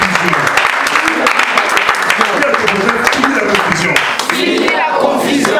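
Church congregation clapping together at an Easter service, a dense steady wash of applause running throughout, with voices cheering and calling out over it.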